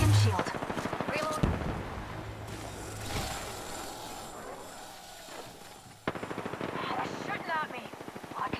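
Apex Legends gunfire crackles in rapid automatic bursts mixed with game effects, starting and stopping across the fight and rising again near the end, with a player's voice speaking over parts of it.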